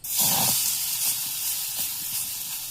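A fritter of potato, egg and gram flour fries on a hot tawa, giving a steady, close hiss and sizzle with a few soft crackles and small bursts, no voices.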